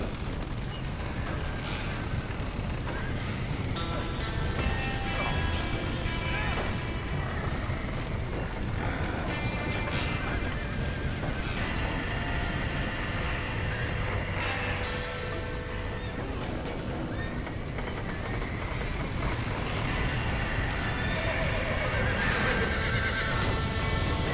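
Horses whinny repeatedly in Red Dead Redemption, shrill neighs rising every few seconds over clip-clopping hooves and a dense, windy outdoor rumble.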